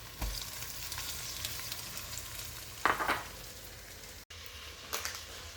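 Ginger and garlic sizzle steadily in a pan with browning onions for a biryani, a soft continuous frying hiss with a few brief clatters of stirring midway.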